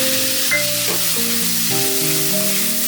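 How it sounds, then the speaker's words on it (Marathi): Teasel gourd (kantola) sautéing in hot oil for a Maharashtrian bhaji, giving a steady close sizzle and crackle with a few faint tonal clinks over it, no voices. "कंटोळी परतली की मग डाळ घाला"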